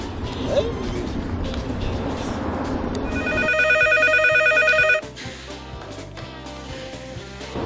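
A telephone rings loudly during a call, a regular electronic ringing tone that sits over a busy background of voices and traffic before dropping away abruptly.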